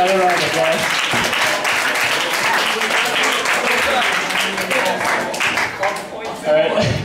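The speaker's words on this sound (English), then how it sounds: "Let's give them another round of applause." An audience at a Bible talk gives a loud, sustained round of clapping up close that tapers near the end, with voices briefly audible over it.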